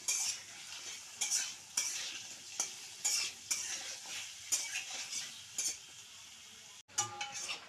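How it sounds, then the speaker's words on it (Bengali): Potatoes fry with salt and turmeric while a spoon scrapes and stirs them in a pan, giving repeated bursts of sizzle and metal clatter in a steady rhythm, close and moderately loud, with no talking. "আগে আলুগুলা ভাজুন"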